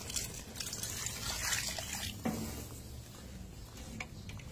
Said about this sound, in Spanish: Y voy a ponerle pues por aquí un poco de agua.